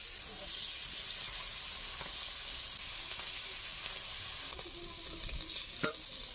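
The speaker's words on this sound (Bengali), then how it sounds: "মাছগুলো মিডিয়াম করে ভেজে নিলাম।" Fish frying in hot oil in a wok, a steady broadband sizzle throughout with a few faint clinks and scrapes near the end, fairly quiet and without talk.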